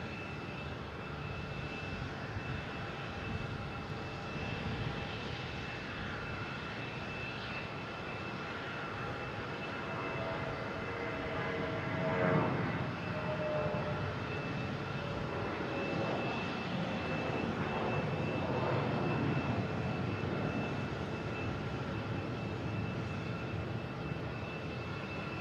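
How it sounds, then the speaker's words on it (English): A JetBlue jet airliner taking off from Boston Logan International Airport: a broad, sustained engine roar heard from a distance, swelling gradually toward the middle and staying strong, with no talk over it. "We have a JetBlue taking off to West Palm Beach."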